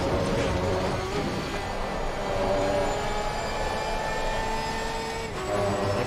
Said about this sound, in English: Is the Porsche noise sufficient? For me it's a big yeah. Sounds great. And it does a high rev.